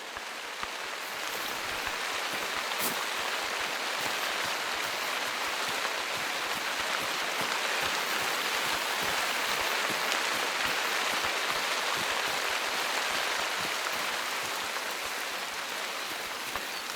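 Heavy rain in the hunting game Call of the Wild pours down in a dense, loud, unbroken hiss that holds steady throughout, with one faint brief tick early on.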